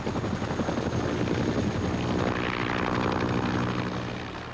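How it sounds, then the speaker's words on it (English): A Huey helicopter's thumping rotor and engine whine pass close and loud, the beat steady throughout before easing slightly at the end. "The helicopter was the sound that the grunts hated the most and loved the most."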